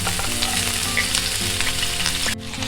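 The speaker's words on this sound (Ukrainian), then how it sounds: "В сковорідку відправляємо цибульку." Steady, loud sizzling of onions frying in a hot pan for Ukrainian borscht, with a constant crackle and a brief drop near the end.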